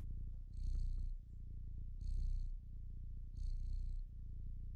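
A cat in the Stray video game purrs steadily and softly, with three rhythmic swells of louder breathy purring spaced roughly a second and a half apart, heard alone without talk.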